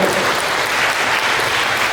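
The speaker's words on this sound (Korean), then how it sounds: "이제 정식으로 부부가 된 두 분에게 아낌없는 큰 박수 한번 부탁드리겠습니다" Wedding guests clapping for a newly married couple at the ceremony, a loud, steady burst of many hands with no voices over it.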